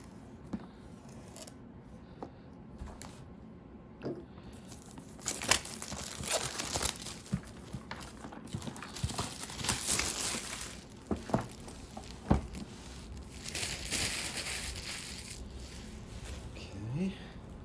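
Someone cuts open a sealed Omicron Protocol board game box, with close crinkling plastic wrap, scraping blade strokes and rustling cardboard under occasional talk.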